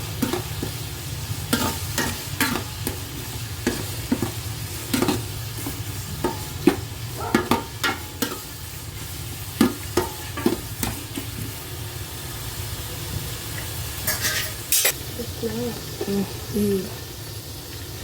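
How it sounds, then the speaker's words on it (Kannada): Tomatoes fry with browned onions for chicken biryani, giving a loud, constant sizzle broken by repeated sharp scrapes and clacks of a stirring spoon against the pan. "ಇವಾಗ ಟೊಮೊಟೊ ಹಾಕ್ತಾಯಿದ್ದೀನಿ. ಟೊಮೊಟೊನು ಸ್ವಲ್ಪ ಚೆನ್ನಾಗಿ ಫ್ರೈ ಆಗಬೇಕು."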